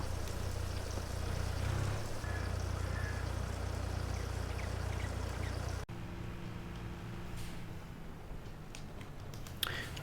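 A water tanker emptying in Farming Simulator 22, a steady low rushing and gurgling pour that stops abruptly partway through, leaving faint trickles and quiet ambient noise.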